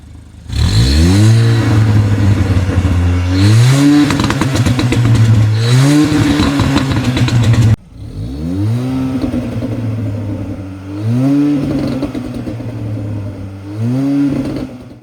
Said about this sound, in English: take a look at how the exhaust sounds like.